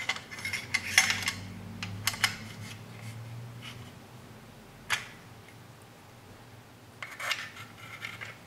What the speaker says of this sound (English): And then we insert the bolt.